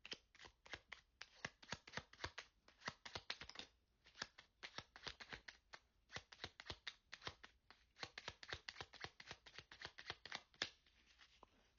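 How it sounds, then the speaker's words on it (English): A deck of tarot cards is shuffled in quick bursts of crisp riffling and flapping, repeated many times with short pauses, close up and quiet. "One more shuffle."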